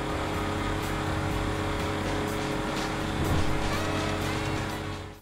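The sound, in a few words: Dundreary Landstalker SUV driving in GTA Online video game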